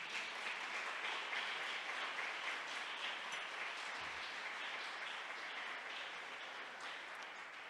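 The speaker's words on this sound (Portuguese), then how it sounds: "Se é assim, aplaude o Senhor." A church congregation applauds, a steady, faint wash of many hands clapping that fades slightly toward the end, with no voices over it.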